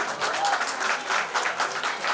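A crowd claps steadily and enthusiastically, a dense patter of applause that continues throughout.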